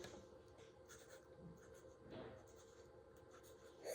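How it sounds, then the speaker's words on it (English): A pen writing on paper, a very faint, continuous scratchy scribbling with small irregular strokes, close and quiet against soft background noise, with no talking. "now I'm going to write down sampler motifs"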